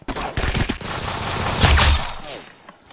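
A double-barrel shotgun fires in the Roblox game Arsenal: a short, sharp burst of blasts amid rapid in-game combat noise, loud and close.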